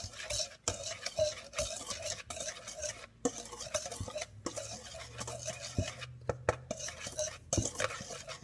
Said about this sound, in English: you're gonna mix them together.